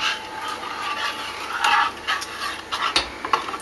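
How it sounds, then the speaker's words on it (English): Lemon custard filling of cornflour and water being stirred in a pan, with soft, steady scraping and swishing strokes at close range, a few sharper spoon knocks toward the end. "just keep stirring it. It's like making a custard, like a lemony custard."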